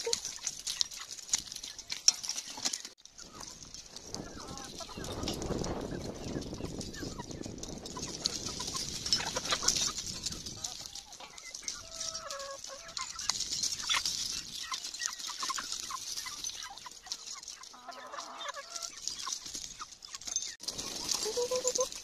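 Chickens cluck and scratch while being fed in a farmyard, their soft calls scattered over rustling and pattering sounds, with a person's voice calling and talking at times.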